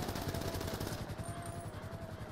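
Rapid bursts of automatic gunfire from a video game, rattling continuously, fairly quiet in the mix.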